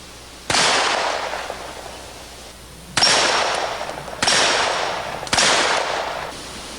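Large-caliber handgun fire, .44 or .45, at an outdoor shooting range: four loud, sharp single shots with long echoing decays. The first comes alone, and the last three follow at uneven intervals of a second or more.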